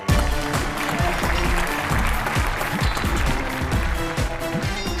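A studio audience at a Hindi comedy show applauds, steady clapping mixed with a rhythmic low thumping beat, fairly loud and continuous.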